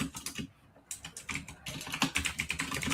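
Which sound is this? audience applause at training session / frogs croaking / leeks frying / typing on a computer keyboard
typing on a computer keyboard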